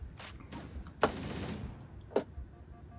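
Gunfire in Halo: The Master Chief Collection, with two sharp shot bursts standing out over a busy, rumbling battle background.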